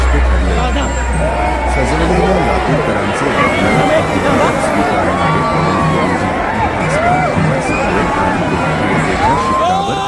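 Dense crowd noise at an election campaign road show for a Mahayuti candidate, a steady roar of excited voices, shouts and cheers filling a packed street, continuous and loud throughout.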